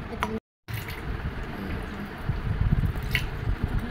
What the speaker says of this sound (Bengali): জল দিয়ে স্নান করানো হচ্ছে